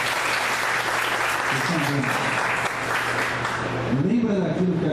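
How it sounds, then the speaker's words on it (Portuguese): Audience applause during a personal marketing talk, sustained dense clapping from a crowd with voices rising and chattering underneath, especially toward the end. "uma salva de palmas"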